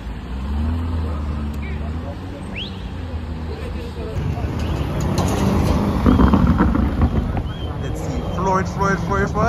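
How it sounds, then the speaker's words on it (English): Lamborghini Urus exhaust downshifting on a street in Sandton, a rising and falling engine note with crackles and pops over wind noise while people talk nearby. "Let's listen to the downshifts on this"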